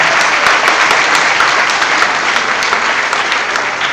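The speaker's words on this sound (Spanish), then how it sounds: "Un aplauso para Lam." Sustained applause from a conference audience at a Chinese-Spanish business forum, dense steady clapping at close range lasting throughout without a break.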